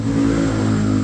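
Engine of a Toyota Supra car revving steadily at close range, a continuous loud mid-pitched drone with a strong low hum, with no voices over it.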